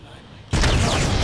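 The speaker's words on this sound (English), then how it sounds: "Incoming explosion." A sudden loud explosion in the video game Uncharted 2 bursts in after a quieter lead-in and keeps roaring with crackling debris to the end.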